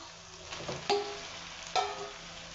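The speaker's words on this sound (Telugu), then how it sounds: "చికెన్ వేసి బాగా కలిపేసుకుంటే బాగా ఆయిల్లో మగ్గుతుంది" Washed chicken pieces fry in oil with an onion, tomato and green chilli masala, a soft steady sizzle broken by two sharp spoon scrapes as the mix is stirred, close and quiet.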